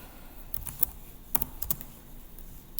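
Sparse keystrokes on a computer keyboard, a handful of separate clicks spread across a few seconds with pauses between, close and fairly quiet, no talk.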